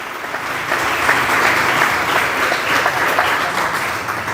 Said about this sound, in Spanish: Un aplauso para el Padre, que hoy está de aniversario